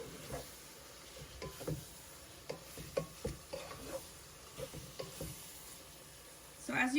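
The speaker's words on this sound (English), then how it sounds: "my beef is cooking fairly quickly. I do have the heat on high" Wagyu beef for Cuban picadillo cooks in a pan over high heat, a low steady sizzle broken by repeated scrapes and stirs of a utensil, close and soft.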